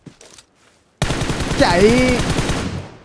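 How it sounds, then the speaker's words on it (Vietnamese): Gunfire from a hilltop in PUBG Mobile bursts in suddenly and loud after a short spoken word, a rapid automatic stream of shots that continues steadily to the end. "Tiếng súng ở bên trên đồi đó."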